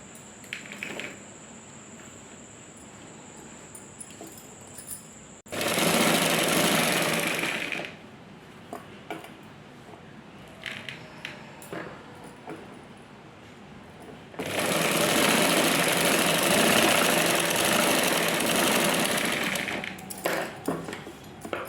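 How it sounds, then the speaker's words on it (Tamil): Sewing machine stitching along a blouse fold, two loud sustained whirring runs of several seconds each, separated by quieter pauses filled with small handling clicks and fabric rustles. "கீழே வந்து நீங்கள் ஃபோல்டில் ஒரு தையல் ஒன்று போட்டுக்கோங்க"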